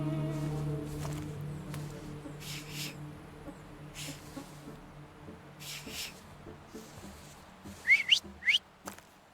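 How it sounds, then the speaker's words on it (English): Whistling inside the video game The Thaumaturge, with a few short, shrill whistled notes near the end that stand out over quiet background ambience and soft scattered game sounds. "So, have you mastered whistling?"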